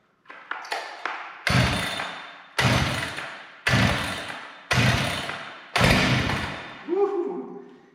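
A Holzforma G395XP chainsaw's recoil starter is yanked about six times in a steady rhythm, each loud, close rasping pull cutting off sharply, with a few quick short tugs before them and a brief engine sputter at the end.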